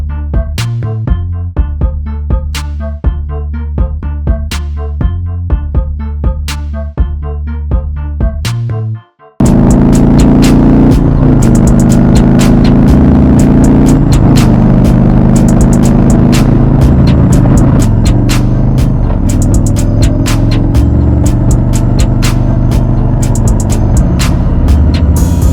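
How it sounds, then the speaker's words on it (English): A brand-new 2018 Harley-Davidson Street Glide Special (FLHXS) motorcycle out on the road; after a short musical opening, a loud, steady engine rumble blends with continuous wind roar for the rest of the ride. "I'm out on my first ride on my brand new 2018 Street Glide Special in the Bonneville Salt Denim"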